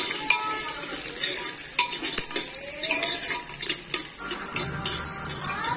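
Chopped onions sizzle gently over low heat in a pan with bay leaves, with intermittent scrapes and clinks of a utensil stirring them, steady and close.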